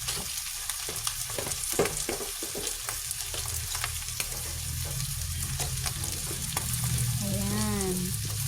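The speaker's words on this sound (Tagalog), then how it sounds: "Tigisa lang natin konti hanggang sa maluto yung mushroom and luncheon meat." Mushroom and luncheon meat fry in a pan with a continuous close sizzle, broken by repeated scraping and stirring clatter from a utensil, no voices.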